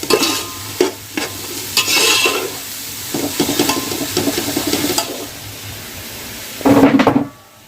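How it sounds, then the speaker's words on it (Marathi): Sliced onions frying for homemade Chinese fried rice, with stirring scrapes and a steady close sizzle that swells loudly near the end, no talking. "हे जे कांदे हे चांगले आपण फ्राय करून घेऊया"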